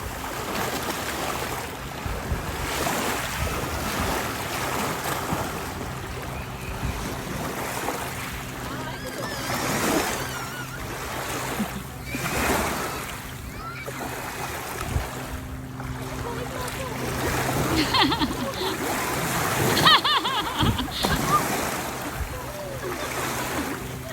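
Waves on Horne Lake wash and lap in a steady, rolling hiss with gusts of wind over the microphone, while voices talk on and off over the water.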